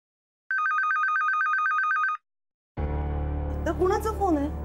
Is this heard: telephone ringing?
yes